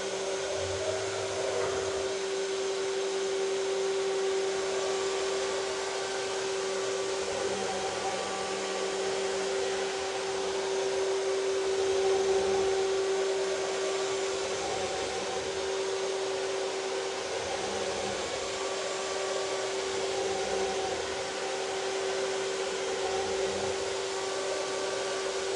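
A CNC router spindle runs steadily at 12,000 RPM over a spoilboard, making a constant high whine with an even mechanical hum that holds at the same level throughout, moderately loud and close, with no speech.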